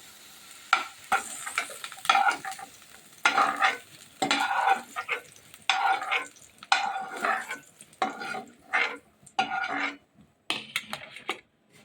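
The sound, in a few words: potatoes frying in oil being lifted out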